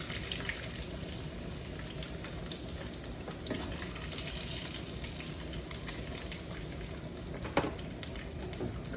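Tomatoes, corn and okra cook in a pot with a continuous close sizzling bubble, steady and moderately loud, punctuated by faint clinks and stirs.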